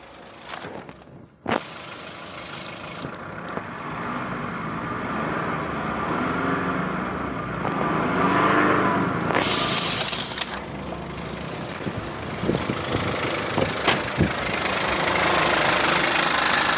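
A 2013 BMW X3 F25 xDrive20d diesel engine is revved with the bonnet open, a steady rough idle rising into a louder, drawn-out rev with sharp clicks and knocks over the running engine.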